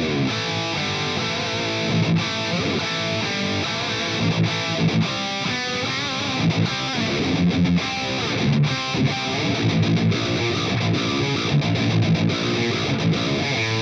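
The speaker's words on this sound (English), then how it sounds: "most of the time, I just play with amp distortion like this" Electric guitar with amp distortion plays a busy, dense riff of crunchy chords and quick picked notes, steady and fairly loud with rhythmic accents throughout, alone with no talking.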